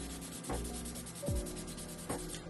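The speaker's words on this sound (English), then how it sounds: "So I'm just rubbing this on my nail to clean it." A cleaning pad rubs back and forth on a fingernail before a home gel manicure, producing soft, close scratchy strokes with a few distinct swipes, quiet and with no voices.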